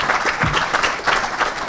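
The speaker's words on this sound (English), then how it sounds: "deserves a bloody big round of applause" Brief round of applause from a conference audience, dense steady clapping at moderate loudness with a faint voice underneath.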